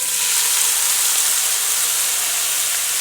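Shrimp sizzles in olive oil in a hot pan, giving a steady, bright hiss that fills the whole moment without letting up.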